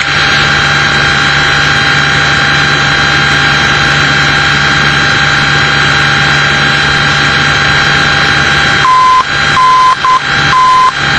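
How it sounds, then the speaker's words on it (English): A VOR navigation beacon's Morse code identifier plays as short steady tone pulses in a brief burst near the end, over a loud continuous aircraft cockpit hum and engine drone. "So there's our Morse code signal"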